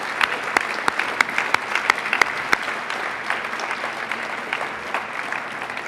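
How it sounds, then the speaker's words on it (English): A large gala audience at a 75th anniversary awards dinner breaks into sustained applause, dense steady clapping with a few sharper nearby claps standing out, loud and continuous with no talk over it. "Please join me in a round of applause for them."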